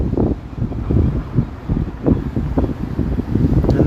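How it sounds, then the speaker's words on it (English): Steady wind blowing outdoors on a city street walk in Toronto's Greektown, a continuous loud rumbling buffet across the mic with gusty swells throughout. "And the wind is picking up too."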